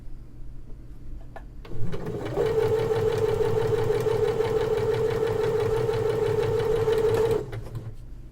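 A sewing machine runs steadily for several seconds while stitching cotton quilt pieces for a Tree of Life quilt, a close, even mechanical whir that starts up, holds, then stops.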